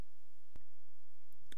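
A few sharp computer mouse clicks while opening a Firefox 29 menu on Linux, isolated quiet ticks against a near-silent background, no talking.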